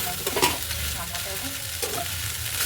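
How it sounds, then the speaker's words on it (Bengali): Vegetables sizzle loudly in hot oil for veg fried rice while a spatula scrapes and tosses them, giving irregular clattering stirs over the constant frying hiss, with no voices. "উলট পালট করে ভেজে নিতেছি।"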